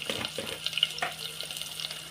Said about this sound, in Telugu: ఆయిల్ వేడెక్కాక చిల్లీ, ఆనియన్స్, కొత్తిమీర, కళ్యామాకు వేసుకోండి